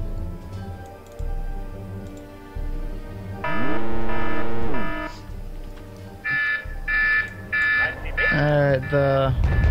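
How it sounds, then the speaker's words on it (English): An alarm going off in the video game WarGame European Escalation, a loud repeating electronic tone in pulsing bursts with rising and falling sweeps over steady game background, with voices talking over it. "The alarm just went off."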